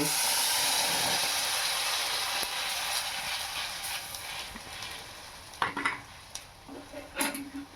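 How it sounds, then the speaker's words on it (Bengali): Batter goes into hot ghee in a kadai with a loud initial sizzle that gradually fades, followed by clinks and scrapes of utensils against the pan. "এদিকে আমি কড়াইতে দেখো ঘি দিয়ে দিয়েছি এটা ঢেলে দেবো"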